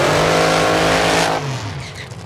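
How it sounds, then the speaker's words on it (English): An A fuel drag racing car does a burnout, a loud, close, roaring engine howl that holds and then cuts off sharply, leaving a fainter fading tail. "Trevor Larkin did a nice comfy burnout for an A fuel car"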